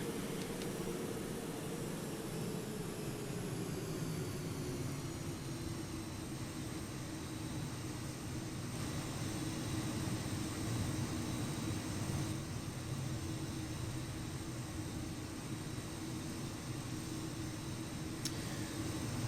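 A Me-262 jet in IL-2 Sturmovik 1946 on its final landing approach, heard as a steady, close engine roar with a broad rushing hiss and a faint high whine running unbroken throughout.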